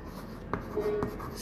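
A short scratch of a marker or chalk writing on a board during a chemistry lesson, one faint stroke with two small taps, over a quiet room.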